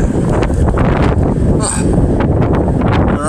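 Strong outdoor wind buffets the microphone in a loud, continuous roar that swamps the recording, with a voice barely showing through the rumble.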